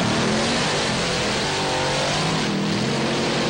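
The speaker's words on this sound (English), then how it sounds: "This Dodge truck, a straight-ahead monster truck, throws it into the corner" A Dodge monster truck at the 2002 Thunder on the Beach event on the sand in Wildwood, New Jersey, revving hard as it launches: a loud, continuous, dense engine roar that fills the whole stretch.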